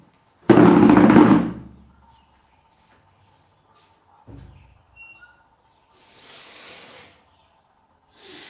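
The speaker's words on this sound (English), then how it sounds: "I need to blow my nose." A single loud, forceful nose blow near the start, followed by quieter sniffs and rustling during a pause in a spoken lecture, with long near-silent gaps between.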